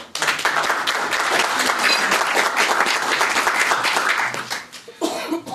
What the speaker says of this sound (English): we're going to give him a round of applause